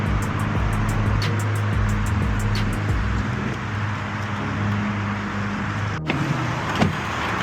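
A Chevrolet Corvette engine starts and runs close by with a steady low rumble and pulsing idle, then settles into a smoother hum with a brief clunk near the end.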